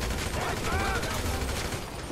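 Dense burst of rapid gunfire in GTA V, loud and continuous for about two seconds with a rumbling low end and brief voices mixed in.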